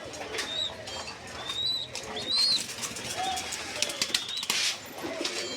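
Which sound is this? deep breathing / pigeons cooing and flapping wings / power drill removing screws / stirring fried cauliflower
pigeons cooing and flapping wings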